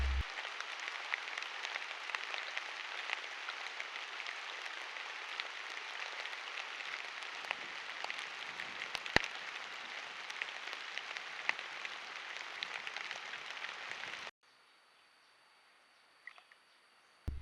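Steady rain falling at Rocky Pool, a dense even hiss of drops lasting about fourteen seconds before cutting abruptly to near silence, with a few isolated louder taps.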